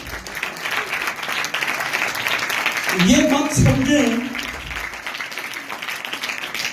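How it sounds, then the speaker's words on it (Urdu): A church congregation at an Urdu-language sermon claps in praise, a sustained round of applause rising under the pastor's preaching voice, which keeps talking throughout. "ذرا یسوع کے لیے زور سے تالیاں دیں."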